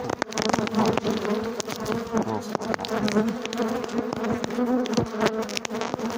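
Dense buzzing of many honeybees close by, a steady droning hum with brief knocks and clicks mixed in.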